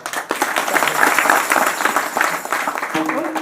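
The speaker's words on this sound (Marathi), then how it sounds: "सगळ्यात मधुर जर नाद कुठला असेल तर तो रसिकांच्या टाळ्यांचा आहे" Audience clapping at a kirtan discourse, a steady burst of applause from a seated crowd that carries through, with some voices mixed in and a faint tone at the end.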